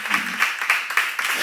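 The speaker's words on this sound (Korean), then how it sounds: "박수 한번 하세요." Audience at a church seminar clapping together in a brief burst of fairly steady, rhythmic applause, moderately loud from a roomful of people, with some voices mixed in.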